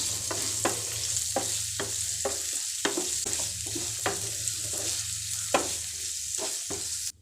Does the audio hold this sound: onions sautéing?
yes